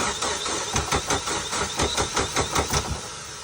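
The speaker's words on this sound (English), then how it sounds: "Just a little. Just rev it a little." A Mitsubishi Evo race car that won't start sputters and revs in a steady rhythm of loud, rough pulses. The engine is close and heard alone.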